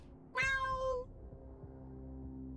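A single clear cat meow from the video game Wasteland 3, close and fairly loud, rising then falling over about half a second, followed by quiet low background ambience.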